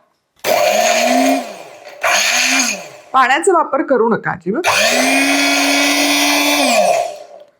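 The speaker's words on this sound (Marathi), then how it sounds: "झाकण लावूयात आणि मिक्सरमध्ये डुरकन फिरवून घेऊयात" A kitchen mixer grinder whirs loudly as it blends green chillies and fresh coriander without water. It runs in two short bursts, stops while someone talks, then starts again for a longer, steady run.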